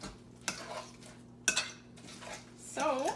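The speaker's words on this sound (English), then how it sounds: "We're going to give this a nice big stir." Lasagna meat mixture stirred in a dish, heard as a few soft clinks and scrapes of a spoon at irregular intervals, fairly quiet and close, with a faint hum underneath.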